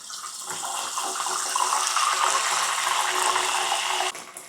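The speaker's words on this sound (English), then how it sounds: "At first, it will bubble vigorously. When the moisture has gone, it will slow down and getting much quiet." Prawns deep fry in hot oil at about 190 degrees during a short second frying, a loud close continuous hiss and vigorous bubbling that drops off sharply near the end.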